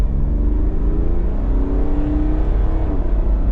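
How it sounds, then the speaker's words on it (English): An INEOS Grenadier accelerates hard up to 60 mph, its engine note climbing steadily in pitch as it revs, loud and close from inside the cabin, with constant low road rumble underneath and no talking. "So I'll give you a bit of an acceleration up to the 60."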